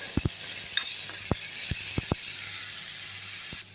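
Freshly picked drumstick flowers sauté in a pan with a steady close sizzle, broken by several sharp clicks of a spoon scraping and tapping the pan.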